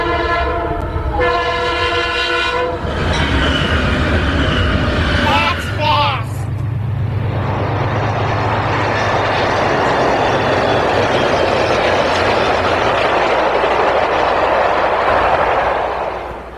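A fast train blows a loud chorded horn in a few bursts, then roars past close by in a sustained rushing wash of wheel and wind noise that stays loud to the end.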